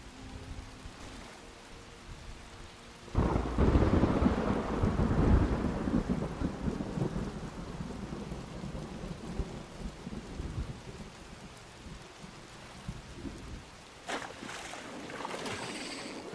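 Rain and thunder in the video game Fallout 76, with a steady rain hiss and a long, loud rolling thunder peal that swells and slowly fades, followed by a later, weaker rumble.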